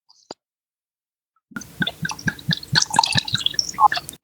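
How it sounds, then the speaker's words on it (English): Wine is poured into a cup: after a single small click and a pause, a steady, close, splashy stream of liquid runs for a few seconds with no talk. "That sounds like wine is being poured."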